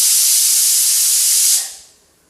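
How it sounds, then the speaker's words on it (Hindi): A pressure cooker of chickpeas for chhole vents steam in a loud, steady hiss that runs about a second and a half, then cuts off abruptly into near silence. "कुकर में 5-6 सीटी लग गया था"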